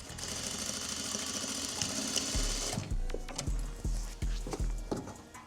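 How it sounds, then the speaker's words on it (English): A sewing machine runs a straight stitch through fabric with a fast continuous whirring hum, then slows into a few separate heavy clunking stitches, close and loud without talk. "Finish that straight stitch, and then we're gonna sew these little lines on the other side."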